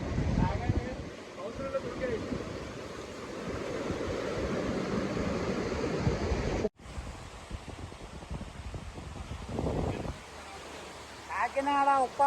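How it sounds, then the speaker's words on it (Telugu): Sea waves wash and roar onto Uppada beach near Kakinada, a broad continuous surge mixed with wind buffeting the microphone, with a few voices speaking faintly near the end. "కాకినాడ ఉప్పాడ బీచ్."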